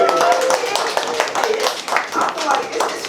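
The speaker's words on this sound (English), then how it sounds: "Alright, so I'll give it a round of applause." Audience applause at a writing session: a dense patter of hand claps, close and fairly loud, continuing for a few seconds.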